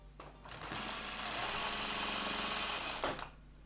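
A sewing machine stitches a waistband onto a wrap skirt, running in one steady, close, continuous burst for about three seconds before stopping, with no talking.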